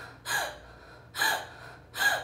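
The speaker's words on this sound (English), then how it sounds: "Give sharp in breaths through the open mouth, like this, holding as if your breath" Three sharp, fearful gasps drawn through an open mouth, evenly spaced about a second apart, each a brief breathy rush close to the listener with quiet pauses between.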